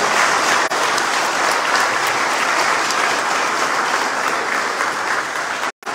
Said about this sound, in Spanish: Le damos fuerte aplauso a estos muchachos